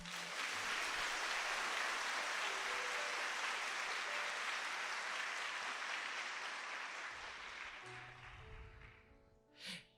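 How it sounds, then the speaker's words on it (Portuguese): A church congregation applauding during a Catholic sermon gives dense, sustained clapping that fills the space for several seconds, then fades away with a short thump at the end. "Aplauda essa palavra."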